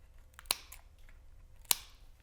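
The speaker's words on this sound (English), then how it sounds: "Get that little tail out, and then you can just trim off the excess here." Scissors snip excess ribbon tail on a Tootsie Pop holder craft, two crisp close cuts about a second apart against a quiet room.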